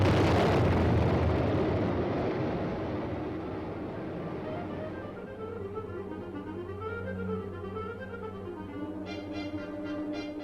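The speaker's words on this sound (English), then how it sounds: "The Honest John rocket is sent winging its way toward the heart of the enemy's forces." An Honest John rocket launching: a loud roaring blast that fades into a long rumbling rush, with faint whining tones wavering in the background as it dies away.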